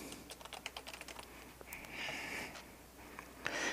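Quiet, close clicking of keys on a computer keyboard in a rapid run, a pause, then a few more taps, with faint breathing or sniffing in between.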